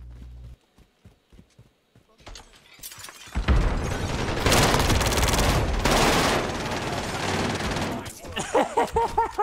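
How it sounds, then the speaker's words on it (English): Heavy sustained gunfire in a video game, a dense loud barrage for several seconds after quieter sparse clicks and taps, then tapering into scattered bursts. "So much shooting even after he was dead."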